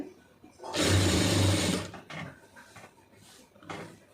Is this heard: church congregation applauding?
no